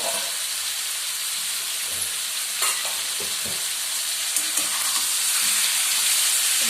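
Chicken pieces for a Chettinad-style chicken fry sizzle loudly and steadily in a hot pan, with a few scraping stirs breaking through the dense, continuous frying hiss.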